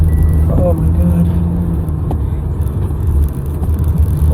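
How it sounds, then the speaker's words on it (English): A car slides sideways on a snowy road in freezing rain, its engine whirring and surging steadily close by, with occasional faint voice sounds mixed in. "Why is it so much fun to go sideways in a car?"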